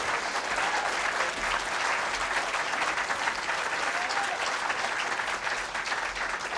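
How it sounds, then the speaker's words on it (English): An audience at a sports hall of fame induction applauds, dense sustained clapping filling the room at a steady loud level from start to finish. "big round of applause"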